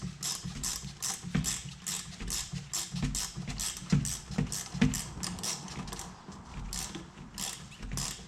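A ratchet tightens the rear shock stud nut on an MK6 Ford Fiesta, clicking in quick, repeated bursts of close, crisp pawl ticks as the handle swings back and forth, with no talking.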